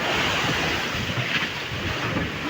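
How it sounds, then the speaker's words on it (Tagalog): Ocean waves with whitecaps churn in a steady, broad rush while strong wind buffets the microphone, a continuous loud roar with no voices. "Puti-puti na po ang alon mga idol."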